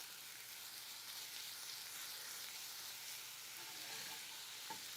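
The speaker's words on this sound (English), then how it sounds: "We're going to let that saute for just a minute or two" Mediterranean appetizer ingredients sauteing in a hot pan, a steady broadband sizzle and crackle that holds evenly throughout, close and moderately loud, with no voices.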